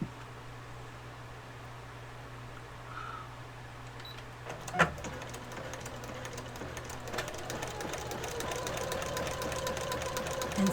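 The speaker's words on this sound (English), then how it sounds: "I'm just going to kind of sew all over" A sewing machine stitches freely over a scrappy fabric journal cover, a quiet hum that starts up partway through with a sharp clack, then a faint rapid whirring that grows slightly louder.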